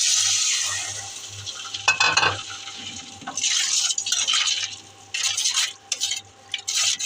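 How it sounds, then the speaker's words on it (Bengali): Fried masala with added water is stirred in a pan for a spicy poa fish dish, giving bursts of wet sizzling and scraping strokes that start and stop in an irregular rhythm. "পানি দিয়ে ভালো করে কষাবো।"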